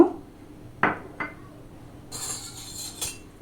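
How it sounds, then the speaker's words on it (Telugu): Toor dal and urad dal spill into a pan in a few short clinking bursts, followed by a brighter hiss and rattle of lentils hitting the hot metal, close and unaccompanied by talk. "ఇప్పుడు కందిపప్పు వేస్తున్నాను మినప్పప్పు వేస్తున్నాయి"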